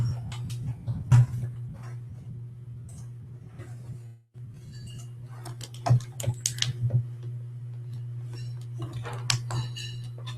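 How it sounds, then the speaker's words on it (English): Soft clicks of typing on a computer keyboard come in irregular bursts over a constant low electrical hum, with a brief pause midway before the keystrokes resume more densely. "He's typing."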